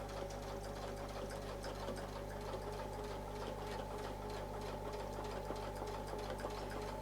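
A sewing machine steadily stitching a quilt block, a close, continuous mechanical whir with a fast even needle rhythm and a low motor hum throughout, no voices.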